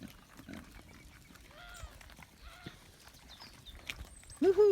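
Pigs at feeding time in an animal enclosure, with soft grunting and munching scattered through the clip, chirping birds nearby and a louder squeal or grunt close by near the end.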